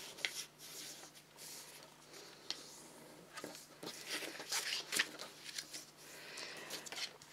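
Quiet paper rustling and scraping come close up as paper for foundation paper piecing is folded along a line against a stiff piece of cardboard, with soft irregular rubs and crinkles.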